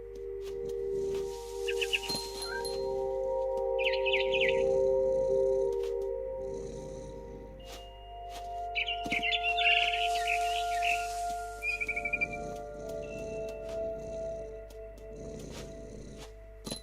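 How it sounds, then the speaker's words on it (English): A barn swallow in the video game What Remains of Edith Finch chirps in several short, bright bursts spread across the clip, heard over a quiet, sustained tonal background. "Then I heard chirping outside my window. It was a barn swallow going back to her nest."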